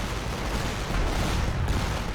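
Dense, continuous rumbling barrage of mortar fire on the Western Front in a Great War video game, loud and unbroken for a couple of seconds with no speech.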